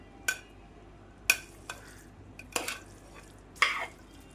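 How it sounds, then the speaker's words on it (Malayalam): Fruit for a salad is stirred into chilled custard, producing a few sparse spoon clinks and soft scrapes against a bowl, spaced by quiet gaps. "ഇനി കസ്റ്റാർഡ് കസ്റ്റാർഡിലേക്ക് ഫ്രൂട്ട്സ് ഇട്ട് കൊടുക്കാം"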